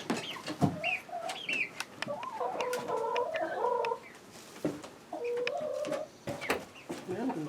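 Hens cluck and chatter inside a chicken coop, several birds calling close by in overlapping bursts with short pauses, fairly loud.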